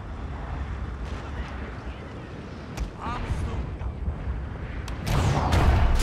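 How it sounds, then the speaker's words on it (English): Cannons fire in a Fall of the Samurai battle: a few sharp booms punch through a dense, rumbling din of combat, with the loudest blasts arriving near the end. "Very unceremonially defeated by cannon fire."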